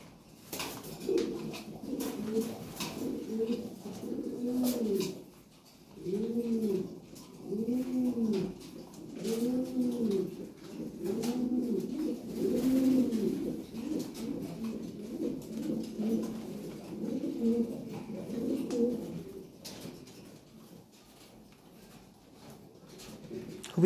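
Pigeons being kept for sale, including fancy breeds, coo in repeated soft, throaty rolling phrases close by, with short pauses between bursts and no talking.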